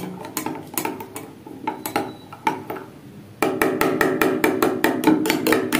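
A spoon stirs turmeric powder into water in a glass vessel, making quick, rhythmic clinking taps that grow louder and more regular in the second half, close by, with no voices.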